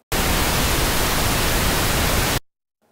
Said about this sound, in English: Pink noise, both together we have.